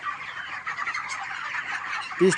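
Dense, continuous clucking and chatter from many 30-day-old chickens indoors in a poultry farm shed, with a louder bird call near the end.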